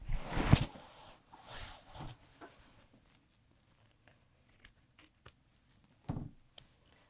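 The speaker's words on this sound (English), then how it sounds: "I'm going to cut off the extra binding that falls beyond" Scissors snip off excess binding at the collar of a quilted jacket: several quiet, close cuts spaced out over a soft background, with no talking.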